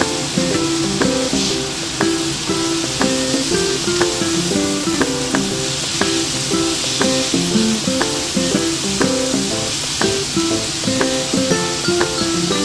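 Shrimp sizzle in a hot pan for a creamy porcini pasta, a steady bright hiss running the whole time beneath background music.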